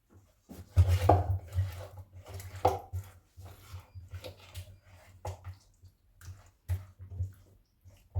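Spiced chicken and whipped yogurt are stirred together in a bowl, giving irregular clinks and soft scraping over a steady low hum.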